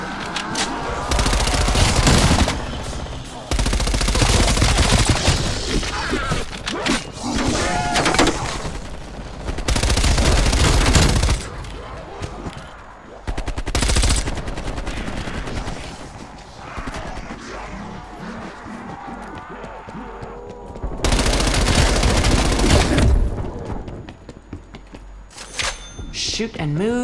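Submachine gun fire in Call of Duty Black Ops Cold War Zombies, loud sustained automatic bursts that repeatedly stop and resume amid game effects, with a voice talking in the quieter gaps.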